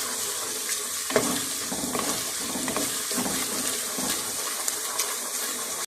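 Steady frying sizzle of ginger garlic paste and onion in a pan with occasional stirring clinks and scrapes, close and moderately loud, no voices.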